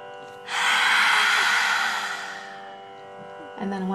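A long, slow exhale during a guided breathing exercise, rising after a brief quiet and fading over about two seconds, close and clear, followed by the start of another breath.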